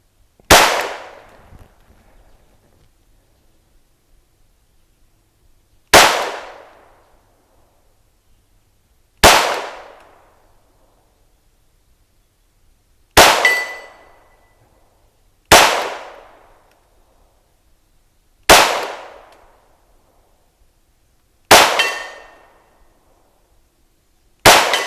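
Eight sharp .22 pistol shots from a Ruger Mark IV or Browning Buck Mark firing CCI AR Tactical rounds, spaced irregularly a few seconds apart, each loud crack decaying quickly into silence with no talking.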